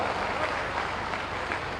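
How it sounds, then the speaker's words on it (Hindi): Crowd applause at a public event where Chief Minister Yogi Adityanath hands out scheme cheques and approval letters in Azamgarh, an even, dense patter of clapping that holds steady throughout. "आपकी तालियों के बिना सब कुछ फीका सा लगता है"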